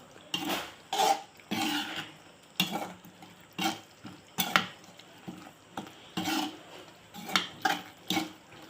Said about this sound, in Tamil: போட்டு நல்லா கிளறிக்கலாம்